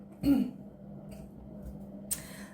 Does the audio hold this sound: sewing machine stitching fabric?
no